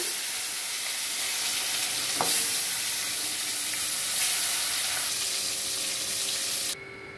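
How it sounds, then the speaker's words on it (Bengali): Fish heads frying in oil in a pan for a Bengali moong dal dish, giving a loud, steady, close sizzle with a couple of brief clatters before it cuts off near the end. "आमी माछेर माथागुली बेजे नेब"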